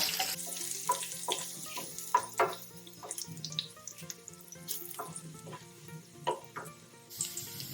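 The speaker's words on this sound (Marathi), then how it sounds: "तेल टाकलं आपण त्यात आधी जिरे टाकून घेऊ लसूण कडीपत्ता" Cumin, garlic and curry leaves fry in hot oil for a Khandeshi-style vegetable dish, making an uneven sizzle with sharp spitting pops and crackles throughout, moderately loud and close.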